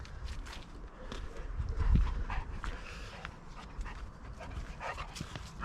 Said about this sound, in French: avec le chien qui se balade